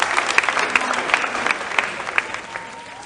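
Audience applause at a national school quiz championship: a dense, steady patter of many hands clapping together, fairly close and loud, holding for a few seconds without fading much.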